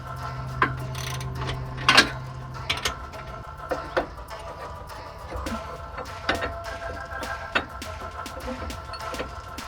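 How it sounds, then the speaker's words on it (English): A ratchet clicks in short bursts while a front control arm is tightened on a vehicle in a garage, faint mechanical ticks and scattered taps over a low steady hum. "While Greg's tightening that up"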